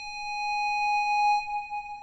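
A sustained synth lead note glides smoothly into the next, a bright steady tone with stacked harmonics, held alone at moderate loudness for about two seconds without drums or voices.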